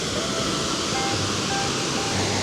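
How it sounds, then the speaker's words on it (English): A sizable waterfall in Montana pours in a steady, dense roar of broadband rushing noise, close and continuous with no break, and no voices over it. "There's a sizable waterfall right there."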